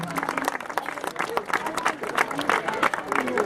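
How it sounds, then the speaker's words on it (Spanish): Applause from a concert audience at a charity CD presentation, with busy irregular clapping and crowd murmur and some voices mixed in, rising and falling unevenly. "tamén un forte aplauso"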